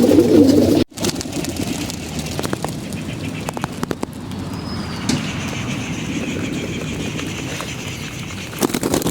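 Racing pigeons coo nearby with low, throaty calls, and wings flap briefly amid a constant background rumble.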